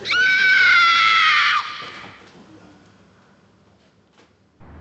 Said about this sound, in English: Suddenly this gut-wrenching scream come from the toilets.